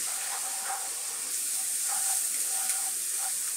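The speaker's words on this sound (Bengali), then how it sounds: "পেঁয়াজ আদা রসুন সবগুলো একসাথে একটু নেড়ে চেড়ে ভাজা ভাজা করে নেব" Onion, garlic and ginger paste frying in a pan for a Bengali fig and prawn curry, giving a steady close hiss and sizzle with a few faint scraping stirs and no talk.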